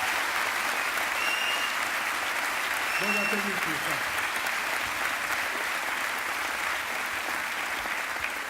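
Steady audience applause fills a comedy show hall, even and continuous, with someone briefly speaking over the clapping partway through.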